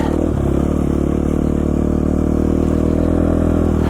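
A KTM 450XCF dirt bike ridden slowly on studded knobby tires, its engine chugging along in a loud, steady close-up drone with faint clatter and no speech.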